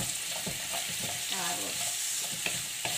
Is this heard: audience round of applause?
no